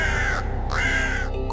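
A crow gives two loud, harsh caws close by, each a drawn-out raspy call with a short gap between them, heard alone.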